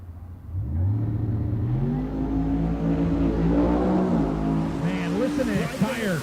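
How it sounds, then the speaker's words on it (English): A 481 X-powered Nova with a big ProCharger on a drag strip screams through a pass, engine note climbing and shifting while the tire spins and shreds, with voices talking over it. "You hear that tire getting shredded there, man."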